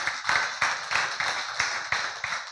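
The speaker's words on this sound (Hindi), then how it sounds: "क्या ताली नहीं बजाओगे जोर से?" Loud rhythmic clapping from a church congregation during Sunday worship, about eight even claps in quick succession, close and clear with no talking.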